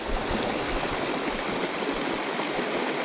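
A river in the Catskills rushes and gurgles in a loud, continuous wash of flowing water, close by and steady, with no voices.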